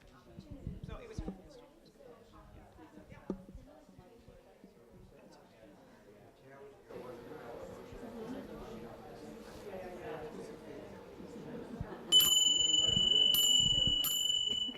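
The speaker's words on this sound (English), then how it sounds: "So that bell just indicates that you should be through about 2 and get to the other 2 at this point." A small bell rings out clearly near the end of a workshop discussion, with several quick bright strikes after a stretch of people talking in a room.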